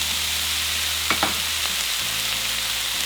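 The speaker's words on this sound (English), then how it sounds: "we're going to add in our meat. And just start to break it down." Meat for crunchy tacos dorados fries in a pan with a steady, even sizzle and hiss, as a couple of faint scrapes come from it being broken up, close and without talk.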